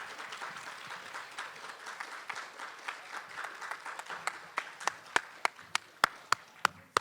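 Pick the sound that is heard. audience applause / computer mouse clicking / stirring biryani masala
audience applause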